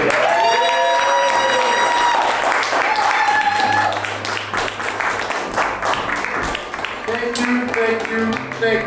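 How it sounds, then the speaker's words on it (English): Audience applause fills a comedy show venue, with sustained clapping and some cheering from the crowd over music, gradually thinning out toward the end. "round of applause"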